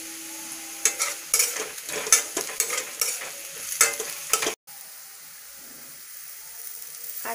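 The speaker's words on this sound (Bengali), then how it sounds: "আর চিড়ের পোলাওটা আমি সাদা তেলে রান্না করছি।" Flattened rice pulao cooking in white oil, with brisk stirring scrapes and clinks over a sizzle for the first few seconds, then a quieter steady simmer after a brief cut.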